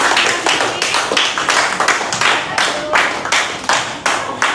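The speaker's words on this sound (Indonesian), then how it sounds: "kita beri tepuk tangan untuk yang presentasi" A classroom of students claps for the groups who just presented, a steady run of close, loud hand claps lasting several seconds with no talking over it.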